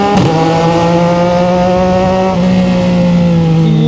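A 2025 CFMOTO 675NK motorcycle engine revs hard at high RPM, a loud, steady, smooth harmonic whine held throughout with a slight dip midway, close to the microphone.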